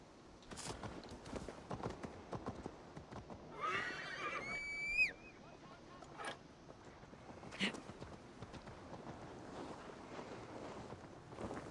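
A horse in Assassin's Creed Valhalla lets out a sharp, rising whinny midway, set against soft hoof clip-clops, wind and scattered game noise, fairly quiet overall.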